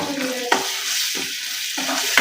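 Curry leaves dropped into a hot pan with chili powder, a loud steady sizzle with a couple of sharp spatula knocks and low scraping stirs, close and without talk.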